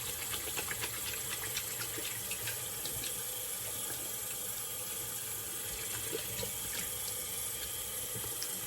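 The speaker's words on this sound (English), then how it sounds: "Do a quick cold water rinse." A barbershop tap running cold water for a quick rinse, a steady, fairly quiet hiss of flowing water with no voices.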